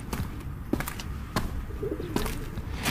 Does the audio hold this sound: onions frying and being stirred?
no